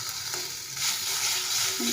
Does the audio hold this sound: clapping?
no